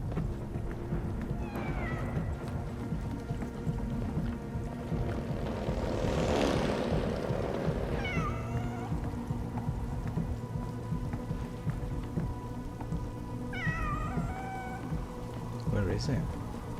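A cat in 11-11: Memories Retold meows several times, in short separate cries spread apart, over a steady hiss of rain and low rumbling ambience.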